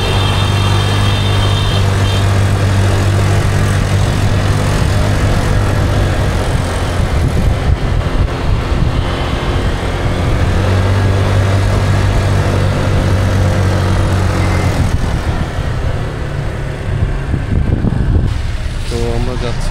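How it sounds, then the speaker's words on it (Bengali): Motorbike engine labouring loudly as it climbs a steep road on Nusa Penida, Indonesia, a steady strained drone with wind rush, continuous and close throughout. "সাউন্ড শুনে বুঝতে পারছেন যে কতটা উঁচায় উঠতেছি এবং বাইকের কি অবস্থা হইতেছে।"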